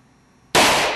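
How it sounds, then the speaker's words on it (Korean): A single loud gunshot cracks out at a live-ammunition shooting range during bodyguard firing practice, sudden after near silence and followed by a brief ringing decay. "모처럼 한자리에 모인 경호원들이 멋진 포즈로 사격 연습이 한창이다"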